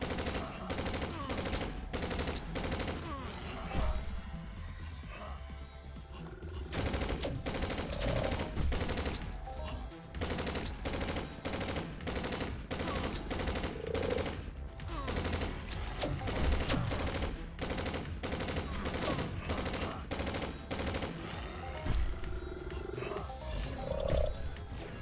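Long-range weapon fire in Entropia Universe during the summer mayhem event, rapid repeated gunshots in sustained bursts mixed with creature roars and growls, fairly quiet and continuous throughout.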